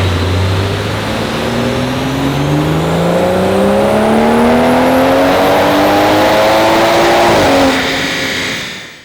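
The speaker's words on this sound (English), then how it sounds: "we're going to pop inside and see Matt's car, who's getting dynoed as well" Car with a pure 800 turbo revving hard on a dyno, engine note climbing steadily in a long loud pull before cutting off near the end.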